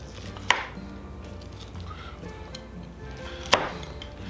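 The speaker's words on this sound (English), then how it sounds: "Let me see if I can cut that big chunk out of the middle there." Knife cutting through a slow-roasted venison shoulder, two sharp clicking strikes against a board about three seconds apart over low background noise.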